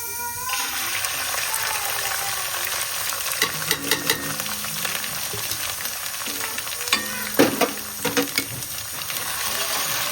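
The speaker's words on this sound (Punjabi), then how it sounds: "ਇੱਧਰ ਆਪਾਂ ਕੜਾਈ ਵੀ ਰੱਖ ਲਈਏ ਤੇ ਘਿਓ ਵੀ ਪਾ ਲਿਆ ਵਿੱਚ ਤੇ ਹੁਣ ਆਪਾਂ ਲਗਾਵਾਂਗੇ ਤੜਕਾ" Ghee tempering sizzles steadily in a kadai for palak paneer, a close, continuous frying hiss with a few brief clinks and stirring sounds near the end.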